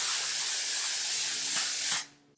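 A makeup setting spray hisses in one steady continuous burst onto a face, close and even, before cutting off abruptly near the end.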